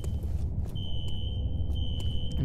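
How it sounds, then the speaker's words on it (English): Fire alarm in a security office in the video game F.E.A.R., a steady high electronic tone sounding continuously at moderate level over low background rumble and a few soft thuds. "A fire alarm. It was triggered at a security office on that floor."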